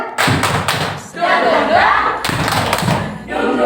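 A group claps the 'tepuk semangat' routine in an Indonesian school or teacher-training session: loud, close bursts of hand claps in a quick patterned rhythm, with voices joining in between the claps.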